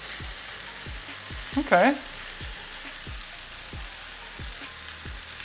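A vegan burger patty sizzles in a pan, a soft steady frying hiss with faint repeated low taps, then a brief louder scrape as a spatula slides under and flips it; a voice speaks one short word.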